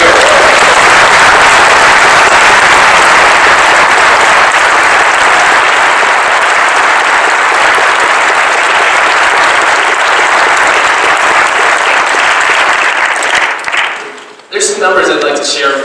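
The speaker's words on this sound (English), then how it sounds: "please give a round of applause to everyone here" Loud, dense applause from an audience at a community recovery kick-off meeting, a steady roar of clapping that holds for about fourteen seconds before cutting off abruptly, followed by a brief burst of voices.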